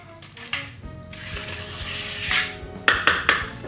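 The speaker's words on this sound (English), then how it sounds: "I'm using a soup spoon to spread the base as evenly as I can" A soup spoon spreads a cheesecake base in a 23 cm tin, making soft scraping and a few sharp metallic taps against the tin, the clinks loudest near the end.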